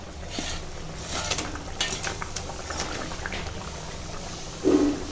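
Pre-fried fish goes into a simmering curry, a steady bubbling hiss from the pot throughout, with a brief soft plop and sizzle near the end.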